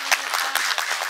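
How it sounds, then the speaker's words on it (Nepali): Hearty applause from an audience thanking donors, a brief, fairly quiet stretch of crisp, rapid clapping. "उहाँहरूलाई जोरदार तालीले धन्यवाद दिनु"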